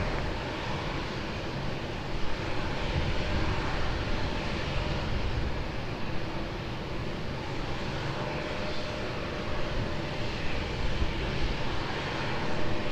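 Airliner landing at Lisbon Airport, a steady broadband jet roar held at an even level throughout without clear rise or fall, heard from a distance and carrying no speech.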